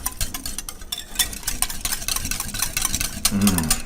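Vegetable fritter batter being stirred together with a spoon in a bowl, a steady wet scraping and clinking close by.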